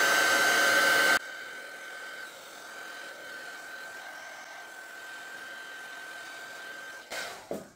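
Heat gun melting embossing medium on a mixed-media greeting card: a loud blowing whoosh that cuts out after about a second, then a softer steady whirring hum that fades near the end, with a brief burst again.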